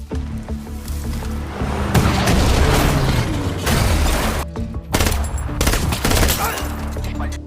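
Gunfire during a James Bond chase scene in No Time to Die, with loud bursts of rapid shots and booms over a roaring engine and dramatic score, sustained and dense throughout.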